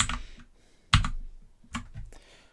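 Keys on a backlit keyboard clatter in three separate bursts, as the Function and Insert keys are pressed close up. Each burst is short and sharp, and the gaps between them are quiet.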